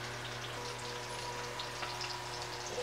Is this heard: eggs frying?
yes